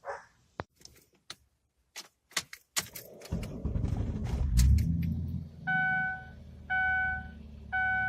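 Keys jingle and click before a 2007 Ford Taurus SE cranks and fires up from cold, its engine settling into a loud, steady idle while a repeating electronic warning chime sounds over it.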